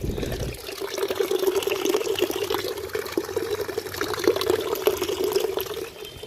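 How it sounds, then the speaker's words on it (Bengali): Water runs steadily to fill a container for a hot bath, a continuous gushing stream that stays moderately close and fairly quiet throughout, with no talking. "তার আগে জল ভরতে দিয়েছি।"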